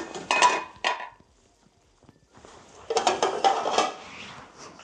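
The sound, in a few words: lid being placed on a cooking pot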